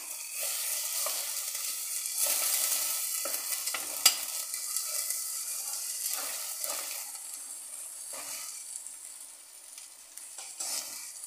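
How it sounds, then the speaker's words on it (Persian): Thawed onions sauté in a pan, giving a soft continuous sizzle broken by scraping stirs every second or two and one sharp clink, close and fairly quiet, with no talking. "به خاطر اینکه از اون حالت سفتی در بیاد یه کوچولو تفت میدم"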